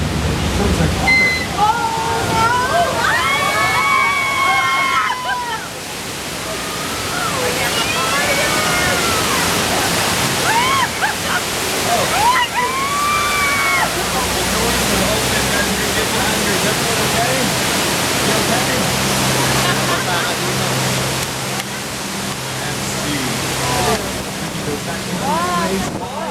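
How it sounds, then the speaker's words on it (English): Running water rushes in a steady, loud broadband stream throughout, with chirping and whistling sounds over it in the first half and a low hum joining later. "Sounds like water."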